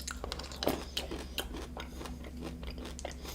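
Peanut M&M's chocolate candies crunch between teeth, a cluster of close, crisp cracks followed by softer repeated chewing snaps over a low background hum.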